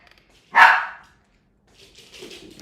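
A dog gives a single loud, close bark that fades quickly, followed by faint background rustling.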